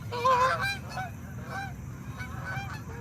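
Geese honking in a park in the morning, a loud cluster of honks at first followed by quieter scattered calls against steady background noise.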